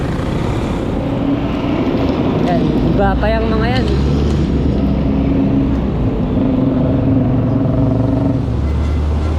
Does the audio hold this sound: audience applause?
no